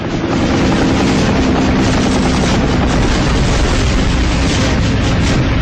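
A bomber plane blows up after being shot down in a wartime air battle, a loud, dense roar of explosion and gunfire-like crackle that fills the whole stretch without letting up.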